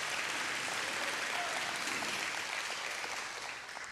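Church congregation clapping in worship, a broad, dense sound of many hands in a large room that carries evenly and then starts to fade toward the end.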